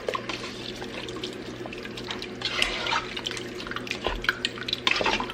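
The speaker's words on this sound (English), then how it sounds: "what I'm going to do is I am going to stir all this up" A spoon stirs liquid ingredients seasoned with onion powder in a crockpot before slow cooking, giving wet sloshing, drips and occasional clinks against the pot, close and moderately loud with no voices.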